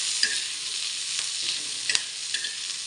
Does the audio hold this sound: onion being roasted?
yes